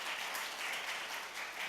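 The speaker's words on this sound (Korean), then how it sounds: "뜨거운 박수 부탁드리겠습니다" Warm applause from a church congregation for a choir after a hymn competition, a dense, steady wash of many hands clapping together with no other sounds.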